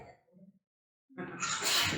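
A person sneezes once in a sharp, breathy burst, preceded by a brief quiet inhale and a short vocal sound.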